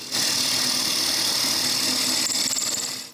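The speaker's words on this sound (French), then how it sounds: "je perce un trou au bout de la manivelle" A drill bores a hole into the end of a wooden shutter crank, whining steadily and loudly from start to finish, then stopping.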